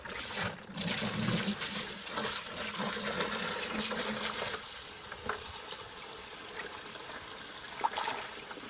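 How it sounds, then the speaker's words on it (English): Water runs from a tap into a bucket as a steady, close rushing stream that holds for several seconds, then thins into a softer trickle and splash. "I'm gonna fill that up with water"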